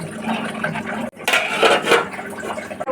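Water poured into a pot of tomato rasam, a splashing, gurgling pour that cuts in after a short pause and runs loudly for over a second, with pot clatter around it.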